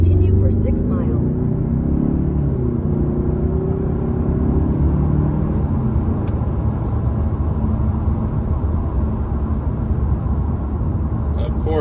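A Mazda6 with a turbo engine cruises at speed, its low, smooth road rumble and whir steady throughout, with a brief navigation voice near the start.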